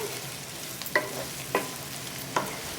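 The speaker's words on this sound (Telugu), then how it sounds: "కారం పచ్చివాసన పోయేంత వరకు వేయించుకోవాలి ఇలా నూనెలోనే మగ్గించుకోవాలండి" Chili powder fries in oil with brinjal curry, a quiet steady sizzle marked by three short, sharp scrapes of stirring about half a second apart.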